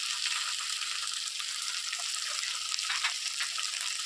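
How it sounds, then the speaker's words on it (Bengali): Garlic-chili paste and cumin-ginger paste sizzle in hot oil while cooking tangra fish curry, a steady bright frying hiss heard close up with no talking. "এখন আমি দেবো রসুন লঙ্কা বাটা, তারপরে দেবো জিরে আদা বাটা"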